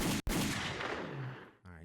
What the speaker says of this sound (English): So give you some gunshots too